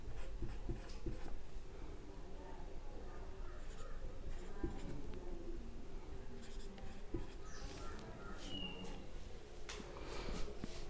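Hand writing with pen on paper while triangle measurements are noted for a geometry lesson, a steady scratching texture running throughout at close range, with faint background noise.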